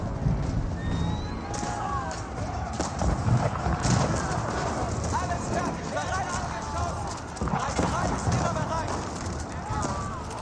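Horses gallop in a steady, busy clatter of hooves amid a dense mix of battle noise in Age of Empires 4, with a person talking over it.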